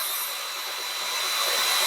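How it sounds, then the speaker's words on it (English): A steady, high-pitched whining hiss of a small electric drill with a small bit boring a hole in the top of a glass globe, continuous and fairly close, with no talking. "I've just got a drill with a small drill bit"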